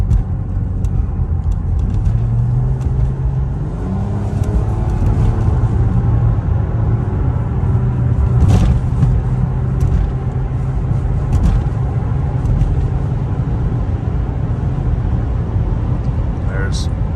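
A 2006 Toyota RAV4 with a 3.5-liter V6 drives along a road, its steady engine hum and tire rumble filling the cabin while someone talks throughout over the constant low drone.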